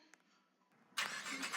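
Engine of a Nissan GT-R R35 starting in the Roblox game Driving Empire: after quiet, a sudden loud broadband roar bursts in near the end and holds steady.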